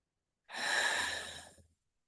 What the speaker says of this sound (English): inhale through your nose and let go out of the mouth